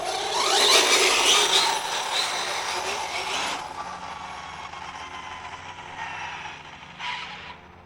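A brushless 8S-powered Losi 5T RC truck races past on a road, its high electric whine swelling loudly and then fading, with a brief second surge near the end.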